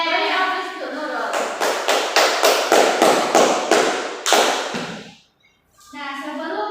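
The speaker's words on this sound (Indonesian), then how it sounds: "Beri aplaus untuk Nurul." Classroom applause, a burst of rhythmic group clapping in roughly a dozen even beats over about four seconds, with voices mixed in, stopping abruptly before a short silence and renewed talk.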